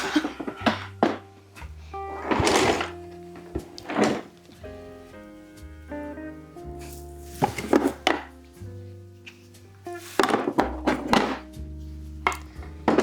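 Drawers open and close while brushes are fetched in an artist's workspace, giving several clattering thumps and knocks at irregular moments, close and fairly loud, with tonal music or hum running beneath.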